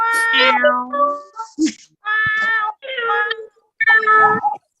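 Several voices take turns mimicking a cat's meow, producing a series of drawn-out, rising and falling meow-like calls separated by short pauses.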